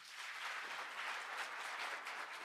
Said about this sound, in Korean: 멋진 기조연설 해주신 총리님께 다시 한번 뜨거운 박수 부탁드립니다